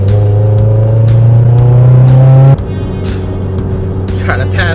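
A car passes close beside a turbocharged Hyundai Genesis Coupe, its loud engine drone and rising whine cutting off abruptly midway, leaving steady road noise afterward.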